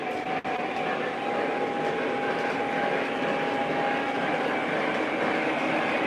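A Lionel or MTH model train locomotive runs slowly along its track, a steady close rumble with a sustained whining hum and a single sharp click near the start, no speech.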